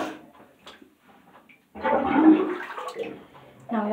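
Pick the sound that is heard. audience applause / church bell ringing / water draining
water draining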